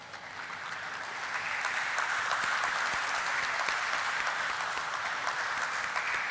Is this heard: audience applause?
yes